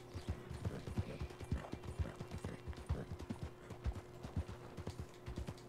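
Horse hooves clip-clopping in a Red Dead Redemption 2 game session, a quick uneven run of hoof beats at a gallop, steady and fairly soft with a low background hum.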